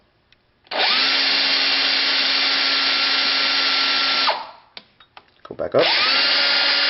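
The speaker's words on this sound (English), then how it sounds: "I'm going to rotate it using the cordless drill" A cordless drill turns the 3-jaw chuck of an Atlas lathe, running steadily for about three and a half seconds, stopping with a few short bursts, then starting again, with a brief spoken phrase in the pause.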